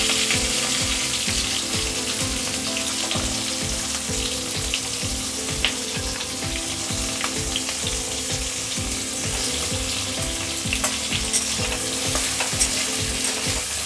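Gravy ingredients, including tomato, frying in ghee in a pan, a continuous close sizzle with stirring scrapes throughout and no talk.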